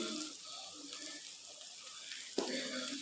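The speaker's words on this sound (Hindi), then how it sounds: "अब हम इसमें अपने मसाले डालेंगे।" Spices tipped into a pan of chicken karahi sizzle and crackle steadily over low heat, a close, continuous frying hiss with a brief sharp clink partway through.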